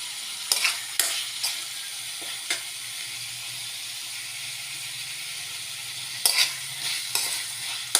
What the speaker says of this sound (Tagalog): Igisa muna natin yung oyster.